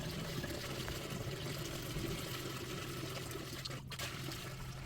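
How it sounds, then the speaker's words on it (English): Water pours steadily into an aquarium tank being filled, a continuous rushing, gurgling wash that stays loud and even throughout, with no talking. "it's time to add some water to the tank and fill this baby up"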